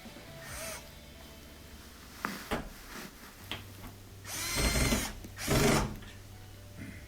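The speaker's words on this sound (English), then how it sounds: "then we'll add those 2 Phillips head screws" Phillips head screws are driven into an LG washing machine front panel, giving a few short scraping and rattling bursts of screwdriver and metal handling, close and moderately loud, with pauses between.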